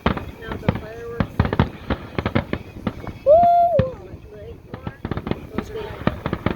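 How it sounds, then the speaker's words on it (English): Fireworks display at McHenry's Fiesta Days: a rapid series of sharp pops and crackling bursts at varying distances, with a whistling rocket rising in the middle and people talking and cheering throughout. "Now the fireworks"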